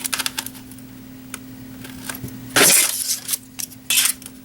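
Thin scale aluminum sheet for model railroad corrugated roofing being cut, a soft hum underneath with scattered small clicks, then a few loud, bright, brief cutting bursts close to the microphone.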